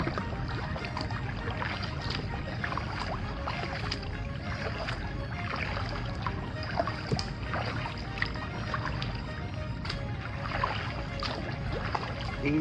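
Paddle strokes dip and splash in shallow water at high tide near Weedon Island, a steady run of near wet swishes and drips over soft lapping water and faint outdoor ambience.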